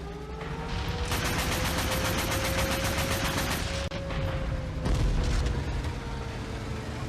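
Flak 38 anti-aircraft guns in IL-2 Sturmovik Battle of Stalingrad, mounted on an Sd.Kfz. 10/5, fire in rapid bursts of repeated shots over a constant engine drone. A brief gap comes before a louder final volley.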